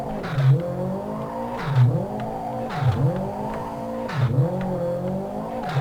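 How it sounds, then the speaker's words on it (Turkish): A car drifting at random in an open area of the Live for Speed racing game, its engine revving up and dropping back in four repeated surges, loud and close, with no talk. "İlk öncelikle arkadaşlar rastgele drift çekmemiz gerekiyor böyle rastgele."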